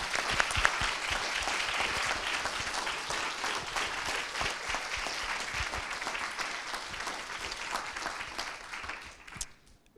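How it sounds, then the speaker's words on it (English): Sustained applause from an audience at a university moot court competition, the Grand Moot 2022, dense and steady for about nine seconds before tapering off sharply at the end. "So, round of applause for the Mooters."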